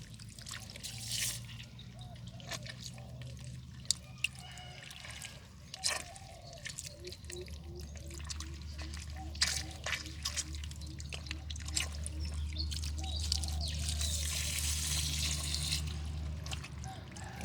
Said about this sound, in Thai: ก็ฉีดเอาน้าเอาดินออกให้หมดนะครับค่อยๆฉีดเนาะ น้ำไม่คอยแรงนะครับ